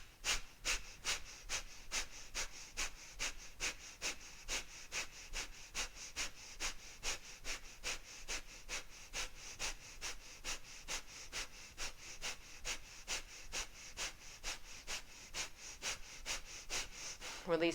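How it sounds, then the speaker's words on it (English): Kapalabhati yogic breathwork, one round of rapid forceful nasal exhalations in a fast even rhythm of sharp puffs, close and fairly clear, continuing steadily for the whole stretch. "One round of Kapalabhati here."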